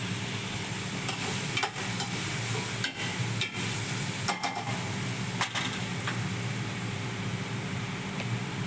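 Mutton fries in a pan with a steady moderate sizzle, interrupted by several sharp clatters and scrapes of stirring, over a faint low background hum.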